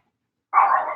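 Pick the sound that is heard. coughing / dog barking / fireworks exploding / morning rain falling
dog barking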